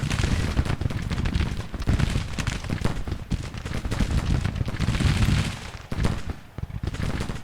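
Civil War battle sounds from the strategy game Grand Tactician, with musket volleys crackling in dense, irregular bursts over deep booming artillery, a continuous, loud, rolling din of distant and nearer fire.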